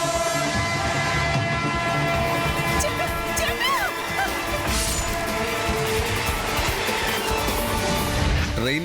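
A train rolls along a railway track with a continuous heavy rumble and a horn sounding midway, while a voice talks over the steady passing noise.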